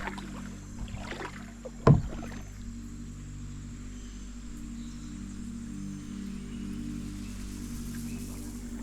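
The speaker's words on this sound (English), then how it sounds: "Steadily paddling upstream allowed me to enjoy the little disturbed wilderness to the fullest" A kayak paddles upstream on a rainforest river in Belize, with soft water swishes and dips under a steady hum of insects and wilderness ambience, and one sharp splash or knock near the start.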